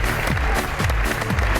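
Studio audience on a game show clapping and cheering in a short, loud burst after a correct answer, dense and continuous.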